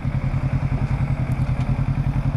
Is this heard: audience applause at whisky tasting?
no